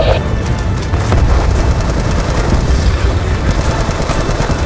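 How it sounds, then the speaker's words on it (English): Tank cannon fire in the video game Call of Duty Black Ops 2, heavy booming blasts and rumbling gunfire filling the scene continuously, loud and dense without pauses. "Enemy tanks are firing on the base."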